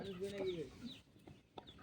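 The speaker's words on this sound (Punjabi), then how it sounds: "ਉਹ ਸਲੇਟੀ ਮੁਰਗੀ ਪਰੇ ਆ" A grey hen clucks softly in short, low bursts, with faint background voices and ambient noise around it.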